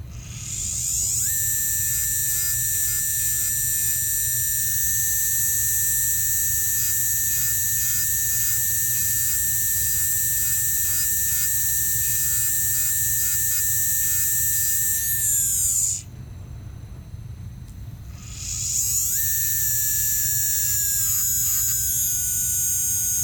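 A high-speed dental handpiece trims an artificial tooth for a denture arrangement, whining steadily at a high pitch for long stretches, briefly cutting out and dropping in speed before spinning back up, close and alone.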